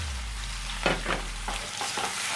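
Sliced green and red peppers fry with liver in a pan while a spoon stirs them. The scraping strokes come in a few quick passes over a steady close sizzle, and nobody speaks.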